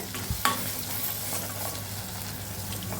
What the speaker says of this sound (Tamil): இந்த மசாலாவை கொஞ்சம் நல்லா வதக்கிக்கிங்க